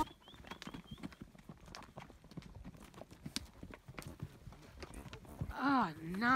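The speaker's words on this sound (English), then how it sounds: "we already went on a horse ride" Horse hooves clip-clop at a steady walking pace on a trail in Bryce Canyon, close by, with a voice speaking over them and a brief high whistle near the end.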